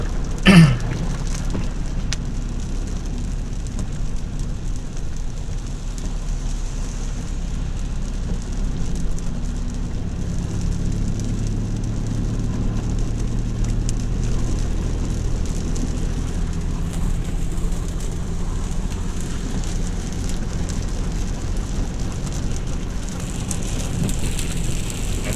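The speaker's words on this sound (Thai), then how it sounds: "ฝนมันตกนะครับ" Heavy rain falling steadily in Pathum Thani, Thailand, a constant hissing wash of drops on surfaces that continues unbroken throughout.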